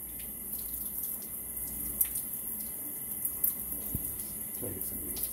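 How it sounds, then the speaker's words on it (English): A tap runs steadily while butchered coturnix quail are rinsed at a sink, a low continuous wash of water with a few faint clinks and splashes, fairly quiet and close. "give them a good rinse"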